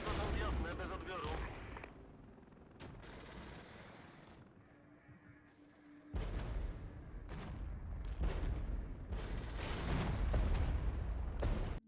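Artillery fire in a realistic modern real-time strategy game: repeated heavy booms and bursts of gunfire in several salvos, louder toward the end, with radio chatter mixed in.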